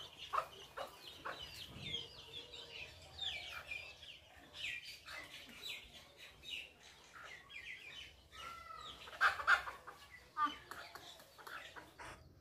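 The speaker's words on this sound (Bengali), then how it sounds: "তো এই যে মুরগি ছানা এগুলা নিয়ে একটা ডিউটি হয়ে গেছে" Hens and small chicks in a village yard cluck and cheep repeatedly at close range, with a person talking intermittently over the birds.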